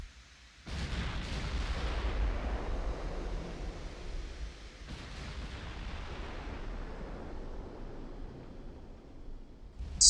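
Deep, rumbling booms of warship naval guns in Ultimate Admiral: Dreadnoughts, two heavy salvos rolling out into a long, low roar against a wash of sea and wind, with no voices.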